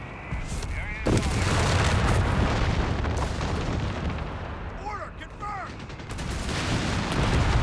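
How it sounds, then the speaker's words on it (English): Mortar half-track firing in Company of Heroes 3, loud booming launches and battle explosions over continuous rumbling combat noise, with a commentator talking throughout. "Very loud, isn't it? The mortar half track."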